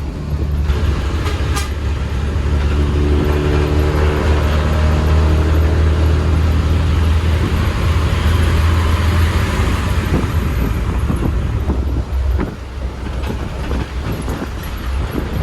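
A constant low engine drone and rattling road rumble fill the cabin of a moving bus, heard from the back seat, loud and steady without speech.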